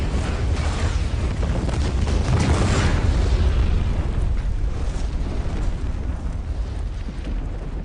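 A huge, sustained movie explosion roars with deep rumbling booms that swell in the first few seconds, then slowly fade into a long, thick rumble.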